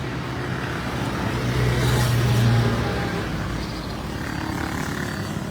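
Highway traffic heard from a moving vehicle, a steady broadband road roar that swells as a passing vehicle goes by near the middle, with no voices.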